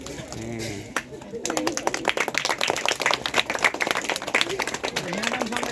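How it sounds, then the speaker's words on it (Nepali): Students clap in welcome for a retiring schoolteacher at his farewell ceremony, a dense outdoor round of applause that builds after a quiet start and carries on steadily to the end, with voices mixed in. "विद्यार्थीहरु तालीले स्वागत"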